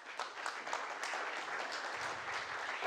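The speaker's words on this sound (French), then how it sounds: "on peut l'applaudir." Steady, dense applause from an indoor audience at an entrepreneurs' and investors' club meeting, filling the whole moment with continuous clapping and no voices.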